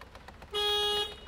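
A car alarm gives a single short electronic toot, about half a second long, close by and fairly loud over a quiet background.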